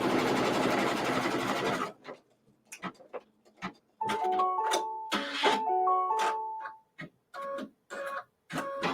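An embroidery sewing machine stitching down a quilt block, heard as close, steady mechanical stitching that stops and starts in short bursts with brief quiet gaps and occasional beeps.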